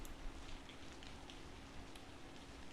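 Steady rain falling in a video game, a constant soft hiss of drops with no voices over it.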